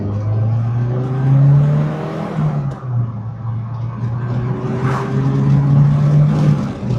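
A Saab 900 Turbo, just repaired for a no-boost fault, pulls away on a test drive: steady engine drone with rising and falling revs through gear changes, close and continuous with no talk.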